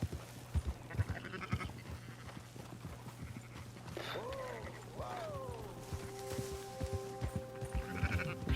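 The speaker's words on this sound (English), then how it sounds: "I'll shoot that sheep if you want." Sheep bleat in Red Dead Redemption 2 as two clear, wavering calls mid-clip, set against steady hoof clip-clop and a low ambient drone, with sustained tonal game sounds toward the end.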